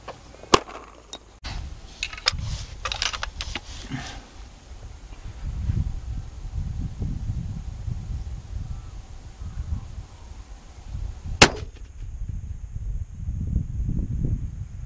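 Rifle shots fired at a target 2000 meters away sound as a few sharp, isolated cracks spread across the clip, with steady low wind rumble filling the gaps between them.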